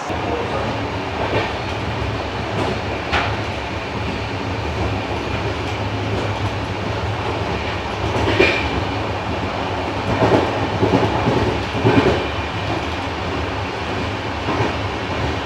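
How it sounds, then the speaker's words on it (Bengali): The Deccan Queen express train (12124) rumbles steadily along the rails from Pune toward Mumbai, with rhythmic clacks and occasional sharper wheel squeals over a continuous low roar. "পুনে স্টেশন ছাড়ার পরই আমাদের ট্রেন ভালো স্পিড নিয়েছে"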